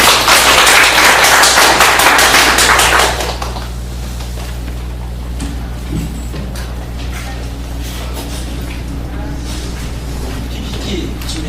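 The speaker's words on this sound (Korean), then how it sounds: "박수를 드리겠습니다" An audience at a church academy lecture gives a burst of loud, dense clapping that lasts about three seconds. It then stops abruptly, leaving a quieter room with a low hum.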